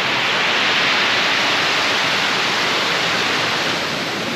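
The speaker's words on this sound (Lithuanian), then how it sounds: "Tai tada krioklys." Waterfall at Keila Joa, a loud, dense, unbroken roar of rushing water that stays even and close throughout, with nothing else audible.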